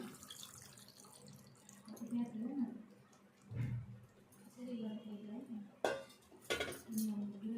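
Water splashes into a pot of frying chicken leg pieces for curry, amid clattering utensils and metal clanks, while a person talks over the kitchen noise.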